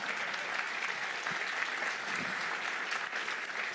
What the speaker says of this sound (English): you can clap at the beginning and then the standing ovation at the end